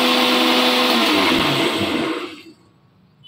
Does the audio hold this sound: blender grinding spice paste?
yes